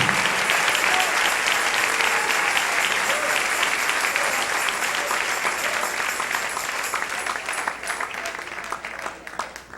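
A church congregation gives sustained, dense applause during a sermon, steady and loud before thinning slightly near the end.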